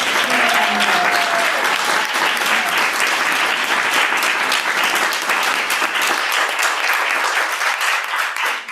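Sustained audience applause fills the room at a lesbian lives book celebration, a dense, steady wash of many hands clapping that holds at full strength before thinning slightly near the end.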